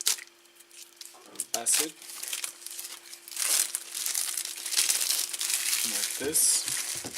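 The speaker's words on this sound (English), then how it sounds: "we will unwrap the plastic from this" Plastic wrap being peeled and crinkled off a new motorcycle battery, producing bursts of close crackling and rustling, with someone talking over it.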